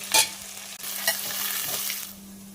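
Ginger garlic paste stirred into hot oil in a pan, close sizzling and frying with a few scraping stirs of a spoon and a low steady hum underneath.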